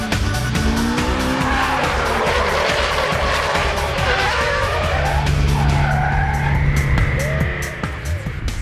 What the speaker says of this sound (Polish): Redukujemy do trójki i poślizg.